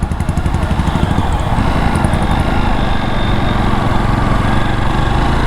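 A 2021 Jawa Perak bobber motorcycle engine running steadily during a slow turn, a loud, even mid-pitched thrum that stays close throughout with no talk.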